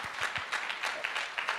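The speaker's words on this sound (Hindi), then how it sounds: "एक बार चाहूँगा जोरदार तालियां हो जाएं अनुकूल सर के लिए" Applause from an audience at a celebration event for a sales team, a brief burst of clapping at moderate distance, somewhat faint and blended into a continuous patter.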